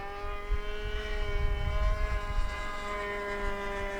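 An SH49 Sonic Hi Wing model airplane screams past low at full power, its steady high-pitched propeller drone swelling slightly as it nears and holding constant throughout with no talking.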